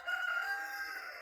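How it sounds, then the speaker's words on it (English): Rooster crowing at close range, one drawn-out, strained call that holds steady for over a second with no talk around it. "These roosters, oh my goodness"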